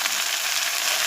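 Jute greens frying in a pan with onion, chilli and garlic, a brief dense close-up hiss of hot oil, steady and unbroken throughout.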